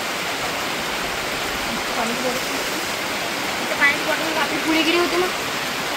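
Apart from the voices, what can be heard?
rain and rushing flood water of river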